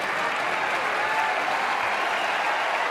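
Spectators at a 2015 quarter-final tennis match between Stan Wawrinka and Richard Gasquet applaud in a dense, even wash of clapping that fills the whole stretch and holds steady.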